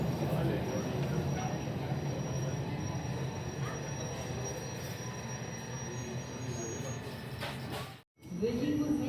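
A TTC subway train runs along the track with a steady rumble and squealing wheels, a voice heard over the noise, before a brief sudden dropout near the end and then the noise resumes.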